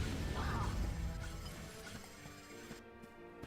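Pots smashed in the video game Visions of Mana: a dense burst of crashing, clattering breakage up front that tapers into scattered lighter knocks and rattles.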